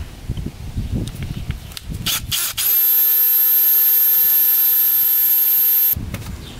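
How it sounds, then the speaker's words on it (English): A power drill whines steadily for several seconds while a bit drills out a stuck part on an old mini UTV, with handling clatter before and after the run. "We're going to drill it out with a drill bit."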